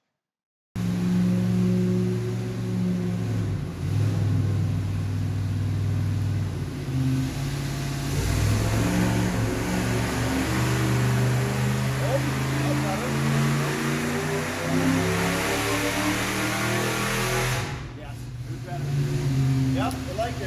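A stock Ford 460 V8 roars steadily on a dyno during a full pull, its loud, sustained engine note holding strong with rising harmonics and a brief dip near the end.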